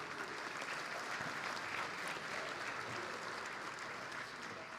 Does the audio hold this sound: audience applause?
yes